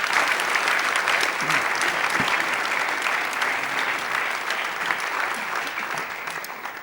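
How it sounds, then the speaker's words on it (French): Seated attendees at a business school's incubator anniversary event applaud the guest speakers, a full, continuous round of clapping from a sizeable crowd that holds steady and tapers slightly toward the end. "je propose d'applaudir nos invités sur la qualité de leur intervention"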